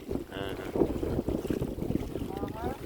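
Strong wind buffets the microphone and waves churn at a fishing spot during a storm, a constant rough roar with brief higher tones cutting through.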